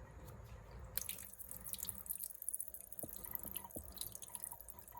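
Water dripping and trickling as it drains from sprouting vegetable seeds, a faint, steady patter of small drops close by in a quiet kitchen setting.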